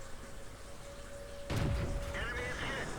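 A tank gun fires in the World of Tanks video game, a single sharp boom at mid-clip with a rumbling tail, over a faint game hum.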